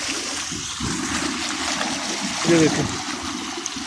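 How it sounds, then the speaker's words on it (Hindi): Water from a well rushes fast along a channel, swirling as it goes, making a steady broadband rush that swells briefly near the end while someone talks over it. "इसमें पानी आता है और पानी ये देखें ये कैसे घूम के आगे कितनी स्पीड से चला जाता है।"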